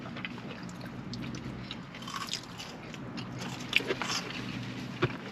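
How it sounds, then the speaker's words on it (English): Close, soft mouth sounds of someone eating In-N-Out animal style fries, steady wet chewing broken by a few sharper crunchy bites. "here I am stuffing my face with fries"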